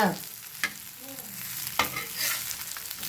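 Fish frying in a pan at home, a close continuous sizzle with a few sharp clicks of stirring or turning, heard alone without talk.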